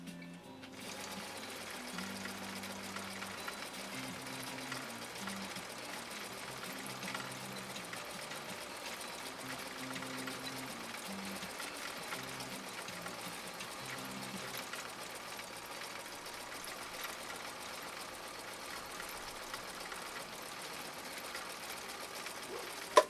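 A Viking 6010 sewing machine, a backup machine once dropped on concrete, runs steadily through a final decorative stitch, its motor and needle producing a continuous mechanical whir with a patterned low rhythm throughout, moderately loud and alone.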